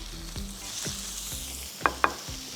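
Camel fillets sear in a hot pan with garlic oil, sea salt and cracked black pepper, giving a steady sizzle broken by several soft clatters and two sharp knocks near the end.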